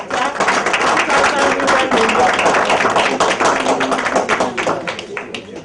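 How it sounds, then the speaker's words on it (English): Sustained applause from an audience at a First Ladies high-level forum on women and peace during the UN General Assembly, dense steady clapping filling the room for several seconds without talk. "Please, can you clap for the new chapter?"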